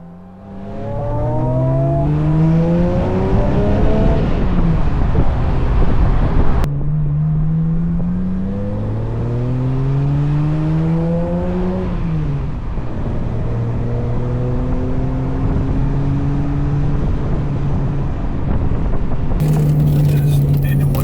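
A Ferrari Testarossa and a Honda NSX climb mountain hairpins, the engine note rising and falling through repeated gear changes, loud and close, with a sharp burst near the end.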